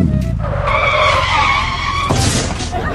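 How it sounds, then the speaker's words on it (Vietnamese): A Lamborghini in the MadOut2 driving game skids under hard braking, its tires squealing loudly and continuously for about three seconds with engine noise underneath. "thầy chỉ thử hệ thống phanh của Lamborghini thôi"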